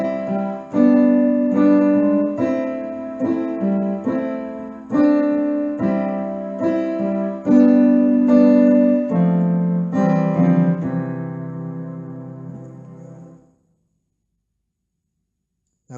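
Right-hand fill on a keyboard or piano: a steady run of repeated chords and broken-chord notes in a mid register, played alone and fairly loud for about thirteen seconds before ringing out into silence.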